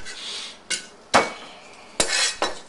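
Garlic cloves smashed with the heel of a hand against the flat side of a kitchen knife on a board, several sharp knocks and clattering hits spaced irregularly, close and fairly loud with no talking.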